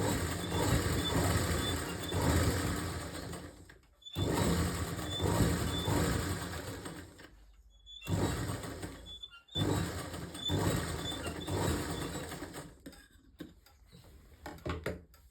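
A sewing machine runs in several bursts while stitching palazzo pant fabric, a fast rhythmic needle clatter close by, stopping briefly between seams and resuming.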